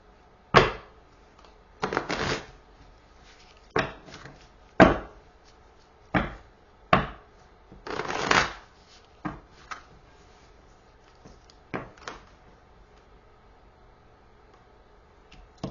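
Tarot cards are shuffled and drawn during a reading, giving a series of sharp, separate snaps and taps at irregular intervals, some in quick pairs, close and clear against a quiet room with no voices.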